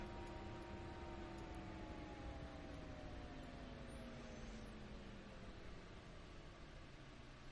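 Bell 407 helicopter in the X-Plane 10 simulator with the starter still running, fuel valve off and rotor at 40%: a faint, steady turbine whine over broad hiss, its tones gliding slowly downward, with no talking.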